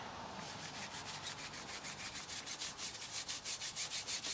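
A brush scrubs a tire coated with wheel cleaner in quick, even back-and-forth strokes, a faint rhythmic rasping that grows a little stronger and faster toward the end.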